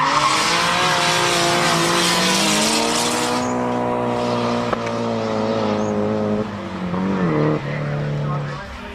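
Two drift cars battle at a Drift Nats round, engines screaming at high revs with pitch sweeps as they slide through corners, loud and close, tyre squeal mixed in.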